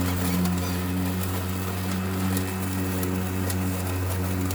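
A Makita DLM532 battery lawn mower cutting grass, a steady close electric motor hum with a constant tonal whine and faint rustling of blades through grass, unbroken for the whole stretch.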